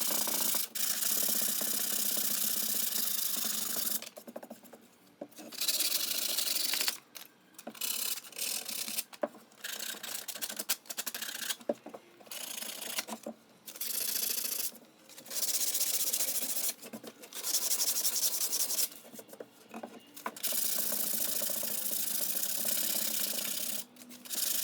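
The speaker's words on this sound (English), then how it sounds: "I'm sanding a fairly gentle round over on the sides" Hand sanding puts a gentle round over on the edges of a cutting board made from firewood, giving a close, raspy rubbing in repeated strokes with short pauses between passes.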